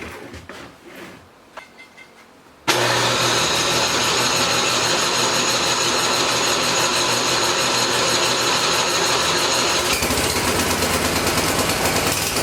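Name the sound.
Husqvarna chainsaw engine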